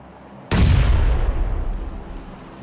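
An explosion from a bomb in the battle-royale video game BGMI: a sudden loud blast that rolls out into a long, rumbling, crackling decay.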